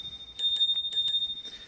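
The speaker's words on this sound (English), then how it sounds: "for example, you have your bell." The bell on an OOTD T10 electric scooter sounds as a few quick, bright metallic dings in a short cluster, close and fairly clear over a faint steady background whine.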